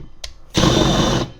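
A power drill with a brand-new bit whirs in one short burst of under a second, close and fairly loud, while working on a Toyota Tundra oil filter housing.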